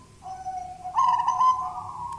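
A wild local zebra dove (perkutut) cooing, a clear, close, tonal call: a short soft note, then a brief pause, then a louder sustained cooing phrase with a rich overtone, heard alone over faint background.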